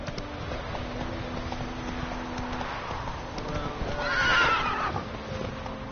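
The horse Roach in a video game whinnies loudly over a steady patter of hooves, the neigh rising near the end while a voice talks faintly in the background.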